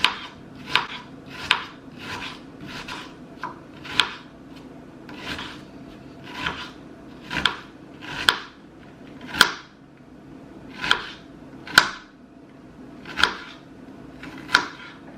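Knife chopping food into smaller pieces on a cutting board while making butter shrimp and spaghetti, about fifteen sharp, close knocks with a bit of scraping, at an uneven steady pace and without talk.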